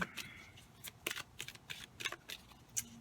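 Quiet, crisp flicks and riffling of oracle cards being shuffled by hand, a quick irregular series of soft slaps with no talking.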